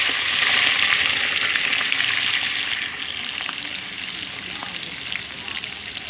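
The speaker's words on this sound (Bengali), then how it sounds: "মাংসটাকে একটু আলুটাকে একটু ভেজে নেব" Pieces of chicken and potato fry in hot oil in a heated kadai, a loud, dense, hissing sizzle that holds steady and eases slightly after a few seconds, with faint clicks of stirring and no voices.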